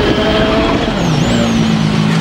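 Rally car cornering hard on a special stage, its engine roaring loud and close throughout with a steady, dense drone that shifts pitch as it works through the bend.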